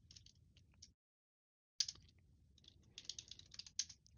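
Keys clatter on a MacBook keyboard as a terminal command is typed, a few quick taps, a pause of silence, then a denser burst of close, crisp clicks.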